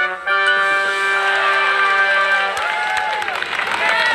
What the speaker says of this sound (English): The children clapped and cheered.